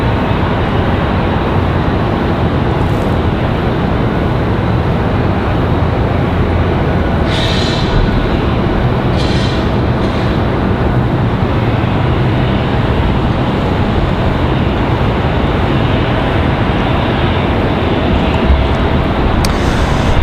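A PSA Airlines jet holding at the end of the runway at Raleigh-Durham airport at night, heard as a steady, loud, broad roar of engine noise that continues unbroken throughout.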